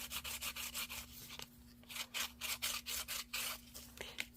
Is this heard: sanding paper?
yes